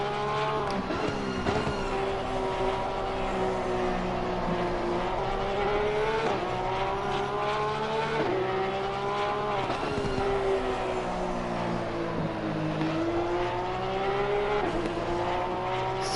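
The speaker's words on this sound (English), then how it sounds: "These cars on Assetto Corsa, they sound absolutely unbelievable." GT3 race cars in Assetto Corsa Competizione at Hungaroring roar through corners, engine pitch rising and dropping with gear changes and faint tyre squeal, loud and continuous with no talk over it.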